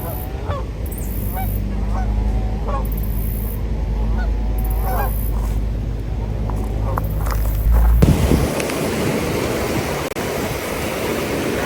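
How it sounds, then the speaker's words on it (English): Geese honk repeatedly on the water at Mammoth Spring. The calls are near and come in bursts over steady rushing water. Near the end the water noise swells and covers the honking. "Geese are enjoying the water."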